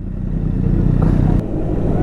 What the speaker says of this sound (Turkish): kallavi bir egzozumuz var